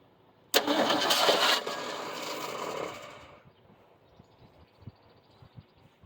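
A neglected 1975 Ford Granada engine cranks briefly, catches with a loud roar and runs for a couple of seconds before settling and fading to a low, uneven idle, close by with no voices.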